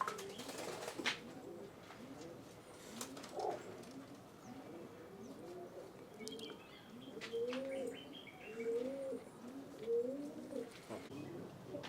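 Racing pigeons in a loft coo in repeated soft, rolling calls, several birds overlapping in a steady rhythm, with occasional chirps and brief wing flaps nearby.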